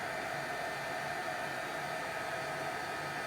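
Heat tool blowing hot air onto embossed paper, giving a steady, soft, airy whoosh that holds constant throughout without any voices.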